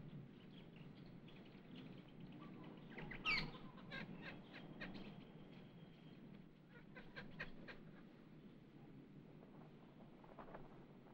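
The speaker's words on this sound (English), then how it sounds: "a bird lover puts on a regular display of feeding wild birds" Faint outdoor scene in south-west Australia with ducks quacking and wild birds calling in scattered bursts as they gather to be fed, soft wind rumble underneath, no talking.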